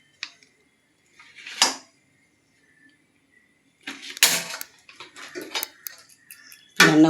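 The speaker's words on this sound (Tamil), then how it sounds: "வாழைக்காய் வெந்துடுச்சு, வடிகட்டிக்கலாம்" Boiled green plantain drained in a metal strainer, with a few sharp clinks and clattering scrapes of utensils against the strainer and pot, separated by quiet pauses, close and clear.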